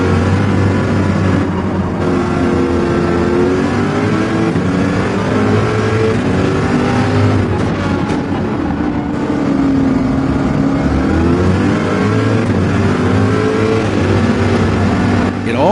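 Race car engines roar and rev in Gran Turismo 7 during a race at Interlagos, with a Corvette and a McLaren in the field. Loud, sustained engine whine with rising and falling pitch through shifts, cars close by.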